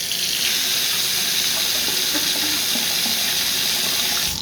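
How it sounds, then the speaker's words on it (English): Water runs steadily from a bathroom tap in a continuous loud hiss with a faint tonal hum beneath it, and it stops abruptly at the end. "Our bathroom tap actually produces a tone."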